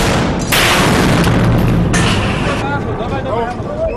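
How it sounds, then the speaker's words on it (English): A large explosion booms during a hostage-rescue assault by Russian special forces: heavy, rumbling blasts that burst out loud and close, then roll away. "everybody heard a large explosion."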